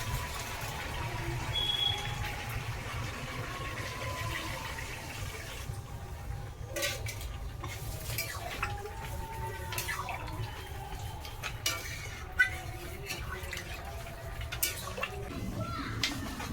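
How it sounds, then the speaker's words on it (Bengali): Water poured into a pot of cooking meat, a continuous splashing, gurgling flow with drips, fairly quiet and close, lasting the whole stretch. "আর এখন পুরো জল দিয়ে দেবো"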